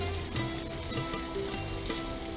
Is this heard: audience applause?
no